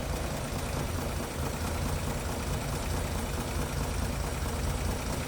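A 1937 Chevrolet Master Town Sedan's inline six engine with a single Rochester carburetor runs steadily at idle, a close, even rumble with broadband mechanical noise and no voices.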